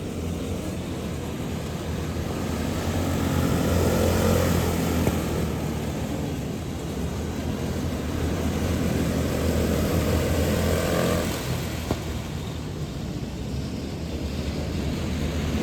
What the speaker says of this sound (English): You can hear Layton let out of it early coming into the turn.